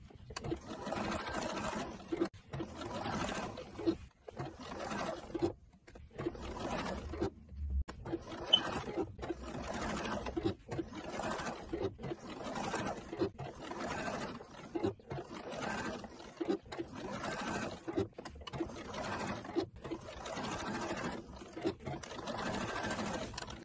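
A sewing machine stitching burqa fabric runs in repeated bursts of rapid mechanical whirring and chattering, stopping briefly between runs as the cloth is repositioned, close and moderately loud, without voices.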